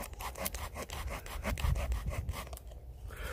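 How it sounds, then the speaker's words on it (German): A Leatherman Surge multitool's small folding saw cuts back and forth through wood in a steady rasping rhythm of close, loud strokes that stop near the end. "So könnte man dann zum Beispiel, sag mal, prima hier sowas, so Aussparungen sägen."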